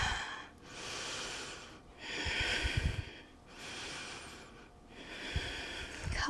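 Slow, deep breathing during a seated yoga stretch with one ankle crossed over the opposite thigh. Long airy inhales and exhales come in steady cycles of roughly two seconds, close and clear, with no talking.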